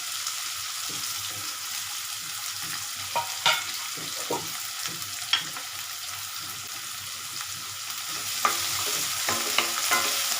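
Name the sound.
onions and tomatoes being sautéed in a pan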